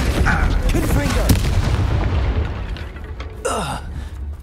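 Confringo fire-blast spell in Hogwarts Legacy: heavy booming blasts roar loudly for a couple of seconds and fade, then a second burst hits near the end.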